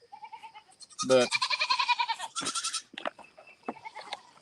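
Several goats on a farm bleating in the morning, a loud close burst of wavering calls followed by shorter, fainter bleats, with a brief word of speech.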